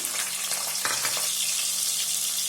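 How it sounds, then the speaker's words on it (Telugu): Thinly sliced onions fry with fennel seeds and cloves in a pan, giving a steady, close hiss and sizzle with a brief stirring scrape partway through. "ఒక నిమిషం పాటు బాగా ఫ్రై చేసుకున్నామండి ఈ ఆనియన్స్ని"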